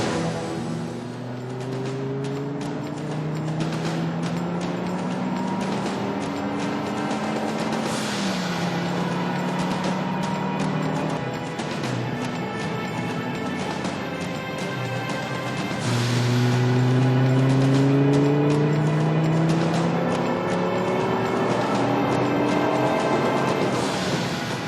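A Noble M12 GTO 3R sports car laps a track, its engine revving up through gears in rising sweeps with shifts in between, loud and continuous as it accelerates and passes.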